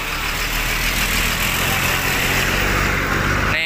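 A Victory bus, unit RMH 006, pulls away with its engine running steadily and loud, a constant low rumble filling the whole stretch without pause.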